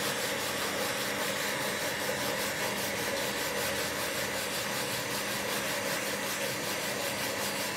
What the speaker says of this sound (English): My little mini sanding block.